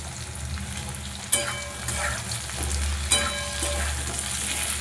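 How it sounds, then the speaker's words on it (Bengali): Chopped tomato goes into a frying fish curry with taro and potato. There is a sharp burst of sizzle at the drop, then a steady frying hiss with a second flare-up partway through, and no speech. "এবারে এর মধ্যে দিয়ে দেবো কেটে রাখা টমেটো।"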